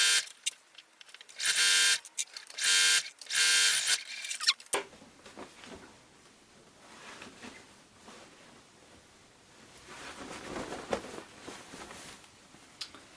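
Home sewing machine stitching very close to the edge of cotton shirt-scrap fabric with a narrow stitch length for a tote bag, loud bursts of whirring run in quick repeated spurts, then a quieter, softer stretch of handling follows.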